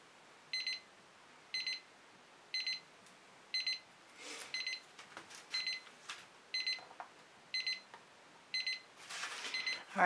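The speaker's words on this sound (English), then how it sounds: "When that timer goes off, I'm going to have to decide what I'm going to tell you." A timer alarm beeps in regular bursts about once a second, moderately loud and close, with faint rustling and tapping of art work in an indoor studio between beeps.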